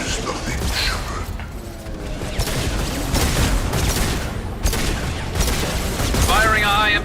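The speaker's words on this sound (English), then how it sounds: "Firing a high impact shot." Gunfire and combat noise in the sci-fi game Mass Effect 2, bursts of shots and impacts mixed with mechanical clatter, loud and continuous, with character voices speaking over the fighting.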